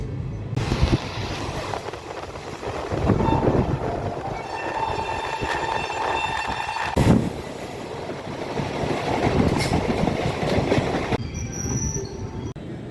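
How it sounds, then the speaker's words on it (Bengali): An express train runs along the rails, its wheels squealing in high sustained tones over a continuous rumble and rhythmic clatter, loud and close throughout with a few sharp bangs; no speech. "ট্রেনটা কিন্তু মাত্র দুটো জায়গাতেই দাঁড়াবে"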